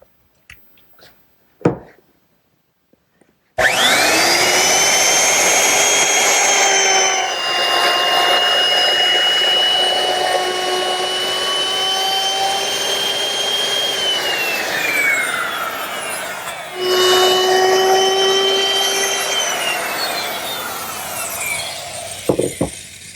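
A router bit molds the edges of a wooden cross piece for a standing mirror, running past a guide fence with a loud sustained high whine after a few small knocks. It shifts pitch midway, briefly drops and restarts, then cuts off.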